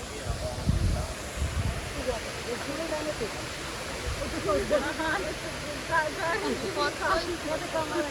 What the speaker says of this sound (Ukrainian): Підійшли до водоспаду.